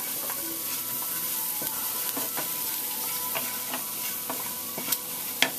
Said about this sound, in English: as you can see, the garlic is browning